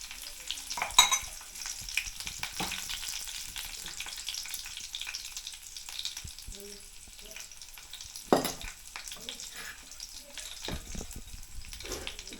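Garlic and curry leaves crackle and sizzle in hot oil for a Marathi-style mushroom dish, a soft steady frying hiss with occasional sharp pops and spatters, faint and close without talk.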